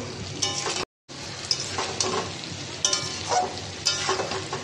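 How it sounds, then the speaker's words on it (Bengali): Masala with nutmeg, mustard-poppy paste and whisked yogurt sautéing in a pan, a steady close sizzle with rhythmic stirring scrapes and a brief dropout of silence near the start. "একটু কষে নিই"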